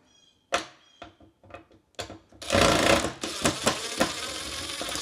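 Screws being taken out of a broken closet door, a run of sharp clicks and short knocks followed by a louder sustained mechanical rasp, close and alone with no talk.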